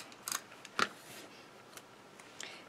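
Old deckle-edged decorative scissors snipping paper for a handmade birthday card, a few quiet, crisp cutting snips spaced out over a couple of seconds against a hushed room.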